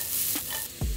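Onions dropped into a hot pan sizzle and crackle loudly, with a short stirring scrape and a fresh burst of frying near the end.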